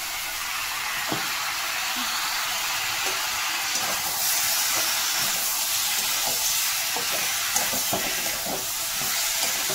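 Spice paste stir-fried in a pan for a Bengali banana chorchori, a steady loud sizzle with occasional clicks of a spatula scraping and stirring, no talking.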